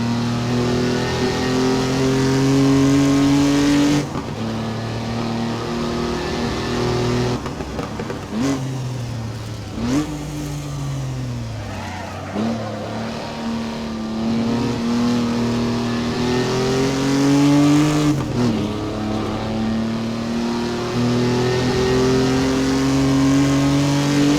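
A 1959 Jaguar Mk2 engine roars as it hot-laps Donington Park National Circuit in Assetto Corsa, revving up and down through gear changes with steady, loud, close drone and no talk.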